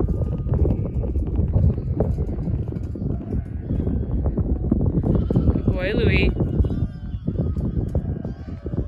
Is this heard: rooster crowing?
no